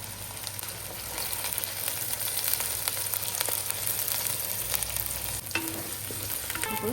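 Onion paste fries in hot oil for a fish curry, a steady close sizzle with light stirring clicks and scrapes throughout and no talk.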